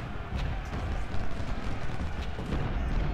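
Cannon artillery fire from a Civil War strategy game, a dense rumbling barrage of low booms rolling continuously and loudly without clear gaps.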